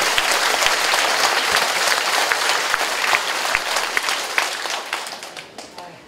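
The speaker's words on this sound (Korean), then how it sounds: "박수 한번 치세요." Sustained applause from an audience at a Korean property sale briefing, a dense wash of many hands clapping that thins and fades toward the end.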